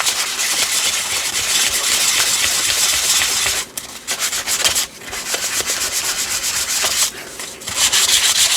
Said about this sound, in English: Sandpaper is a great way to distress things and get that grungy feel.